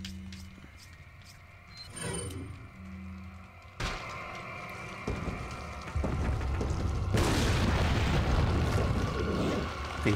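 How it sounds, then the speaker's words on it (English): Grenade explosions in the Resident Evil 4 video game, with deep booming blasts and rumbling bursts building over a continuous game soundtrack and ambient noise, growing louder toward the end. "I just want to stun him and start chucking grenades until he dies"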